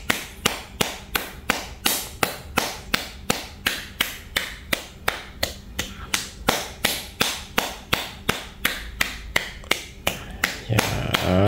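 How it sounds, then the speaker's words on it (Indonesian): Hands pat rhythmically around the kneecap during a knee self-massage, about three crisp slaps per second repeated evenly for over ten seconds, close and distinct, ending in a brief rustle. "tepuk-tepuknya menggunakan tangan seperti ini"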